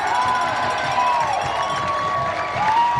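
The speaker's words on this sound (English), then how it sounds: "big crowd, and they're going to be loud" A large crowd at a high school football game between Massillon and Austintown roars and cheers steadily, a dense, continuous wall of voices with whoops rising above it throughout.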